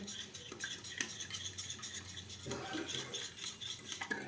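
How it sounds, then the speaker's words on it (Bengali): Milk being stirred into batter ingredients in a bowl, with steady scraping and clinking of a utensil against the bowl, close and moderately loud, with no talking. "দুধটাকে ভালো করে এই সমস্ত উপকরণগুলোর মধ্যে আমাদের মিশিয়ে নিতে হবে"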